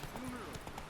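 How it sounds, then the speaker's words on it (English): The horse Roach gallops in The Witcher 3, a short burst of rhythmic hoofbeats under game sound and a voice talking over it. "Run, Roach."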